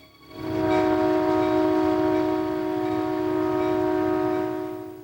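A BN freight train, train 110, rolls steadily with a loud continuous rumble and sustained tonal drone that rises in the first half second and holds throughout.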